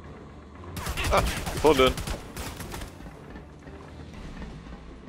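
Rapid bursts of gunfire in the video game Army of Two crackle in quick volleys, loud and close, while someone speaks briefly in German over them.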